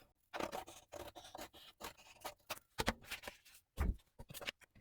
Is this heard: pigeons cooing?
no